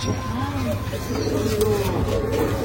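A male Sambhal desi pigeon with a black beak coos softly in a low, rolling rhythm, with a steady hum and some background noise underneath.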